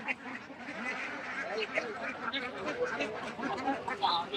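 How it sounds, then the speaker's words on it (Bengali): Geese honking amid a busy crowd at a centuries-old rural market fair, their nasal calls repeating irregularly and close by, mixed with ducks quacking and constant chatter of people talking. "এটা রাজাহাঁস, রাজহাঁস।"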